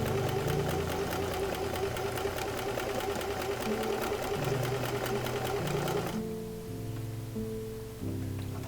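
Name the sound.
sewing machine stitching pintucks on fabric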